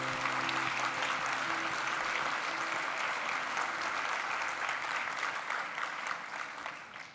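Audience applause at a university graduation ceremony for theology graduates, a dense steady wash of many hands clapping that holds for several seconds before tapering off slightly near the end.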